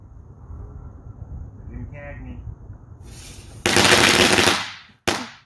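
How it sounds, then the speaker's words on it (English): July 4th fireworks explode in video playback: a quiet stretch with a faint voice, then a long, loud blast and a second sharp burst just after. "those are the kind of explosions we want to see when it comes to July 4th"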